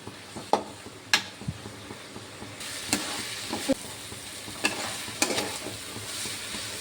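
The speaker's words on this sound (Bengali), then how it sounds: "এবার ভালো করে কষে নেবো।" Bitter gourd and potato stir-fried with mustard paste in a pan: a continuous sizzle with frequent clattering knocks and scrapes of a spoon, the stirring growing busier partway through.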